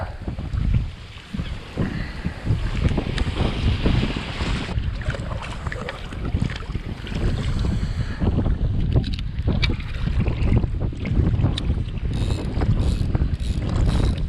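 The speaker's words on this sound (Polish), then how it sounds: "na razie wieje, że nie idzie nawet pogadać" Strong wind gusts over open water beside a small fishing boat while fishing for eels, a loud, steady roar buffeting the microphone throughout with no talking.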